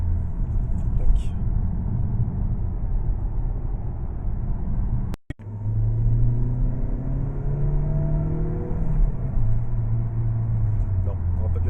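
A Mazda3 driving along, its steady engine rumble and road noise rising slightly as it gathers speed, with people talking inside the car over it.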